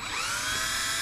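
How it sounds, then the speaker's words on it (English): A small drill bores a hole in the factory bracket of an Axial SCX10 III RC crawler during a battery tray relocation, giving a steady high-pitched whine that holds loud and continuous throughout. "is he's drilling this hole out right here. It's in the factory bracket."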